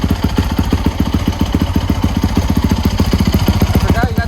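A Yamaha YZ450F dirt bike with an aftermarket exhaust runs at a fast steady idle, a loud close pulsing thump of rapid even firing beats throughout, with people talking over it.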